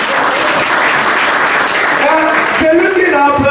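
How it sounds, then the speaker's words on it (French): Enthusiastic clapping from an audience at a live comedy show, a broad continuous patter of many hands, with a voice beginning to speak over the applause in the last second. "Applaudissez pour les femmes ce soir d'abord"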